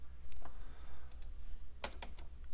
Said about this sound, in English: let's type in the relevant information